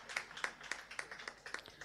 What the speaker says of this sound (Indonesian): Mari dulu tepuk tangan Bapak Ibu yang kami hormati.